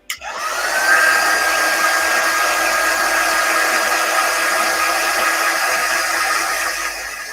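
A hair dryer starts and runs steadily at close range, a loud continuous whoosh drying a chalk-paste design on a 9x12 pallet sign, then winds down slightly at the end.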